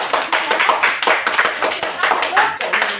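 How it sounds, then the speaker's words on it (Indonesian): Students in a classroom clap for group A after its presentation, a brisk, uneven burst of hand claps up close, with voices talking over the applause. "kasih tepuk tangan untuk kelompok A untuk presentasinya"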